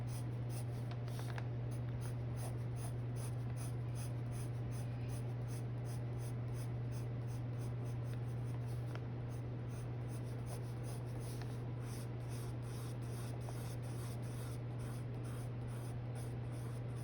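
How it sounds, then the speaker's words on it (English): A colored pencil scratches steadily across dried Inktense paint while shading auburn hair in a realistic eye drawing, a faint continuous rubbing close up under a constant low electrical hum. "you can see how easily the pencil glides over the Inktense"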